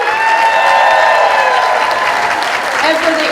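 At an evening awards event, a crowd applauds and cheers for a school pep band, with loud, dense clapping and scattered shouts that ease slightly toward the end.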